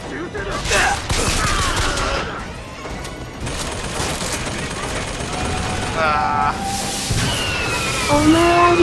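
Rapid bursts of gunfire from the video game BioShock Infinite, clustered volleys mixed with game sounds and voices, fairly loud throughout.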